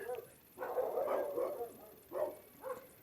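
Dogs bark in short bursts, one longer volley followed by two brief barks, faint and somewhat distant against a quiet background.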